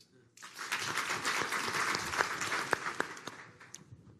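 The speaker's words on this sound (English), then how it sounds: "I would like everybody to clap if you have experienced a disaster or any kind of extreme weather in the last five years." An audience at a tech conference claps in response to a prompt, applause rising quickly from near silence, with individual sharp claps standing out within the crowd sound, then thinning toward the end.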